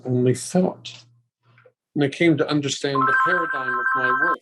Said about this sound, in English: Sorry for the phone interruption.